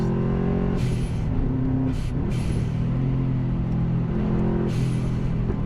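A Subaru Impreza GT Turbo engine drones steadily from inside the cabin with a firm, continuous rumble. A few short hissy bursts sit on top. No voices.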